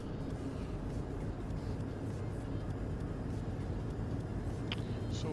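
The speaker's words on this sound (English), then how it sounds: "I really like the sound of this truck from inside," A truck engine drones low and smooth from inside the cab in a trucking video game, a steady quiet rumble with no talk over it.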